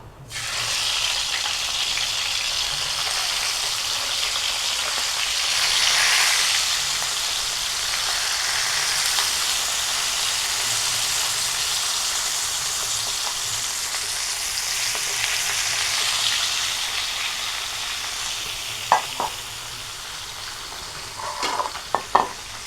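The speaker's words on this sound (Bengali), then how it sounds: "এখন এক এক করে মাছগুলো দিব" Pabda fish sizzle in hot oil in a long, steady, fairly loud fry with an even crackling hiss, and a few sharp utensil clinks near the end.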